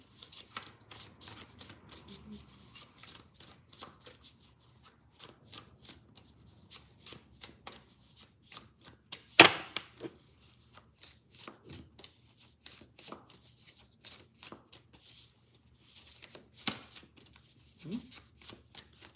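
A deck of tarot cards is shuffled over and over in quick, crisp riffling bursts close up, with a few soft taps and brief pauses between them.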